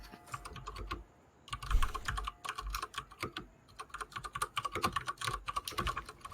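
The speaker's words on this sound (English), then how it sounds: "Keyboard noises." A mechanical computer keyboard clacks in close, rapid bursts of typing with short pauses, sharp and loud against a quiet background during an Overwatch game night.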